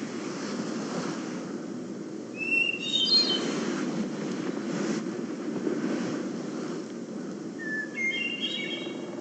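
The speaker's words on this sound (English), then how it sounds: "that's the magic sound of a hermit thrush, a Northwoods bird in the same woodlot" A hermit thrush sings in a northwoods woodlot, two clear, fluting phrases spaced several seconds apart, moderately distant over a constant rushing background hiss.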